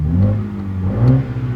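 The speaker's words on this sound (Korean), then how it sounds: "그러면은 이제 스포츠 모드 넣으면 소리가 바뀌죠." A Mini JCW Clubman wagon with a 2-litre, 306-horsepower engine revs its exhaust in sport mode, giving a loud, close, throaty engine roar that rises and swells with no talk over it.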